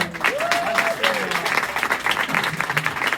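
Audience applause at a live Kaos Show performance in Samsun, dense clapping running throughout, mixed with crowd noise and a whistle or cheer near the start, with some voices under it.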